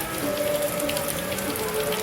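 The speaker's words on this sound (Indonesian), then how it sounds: "Hari ini disambut dengan hujan." Steady rain falls at a Balinese temple and patters densely on surfaces close by as a continuous even hiss. No voices are heard.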